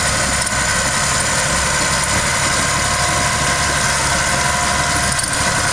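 A 1995 Caterpillar D6H diff-steer dozer engine idles at a steady, close, loud rumble with constant vibration and no change in pace, and no voices are heard.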